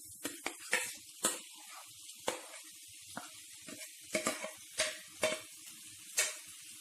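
Crackling sizzle as boiled potatoes hit a hot pan of spices for a potato curry, with sharp pops and spits scattered irregularly, close and fairly quiet, no talking.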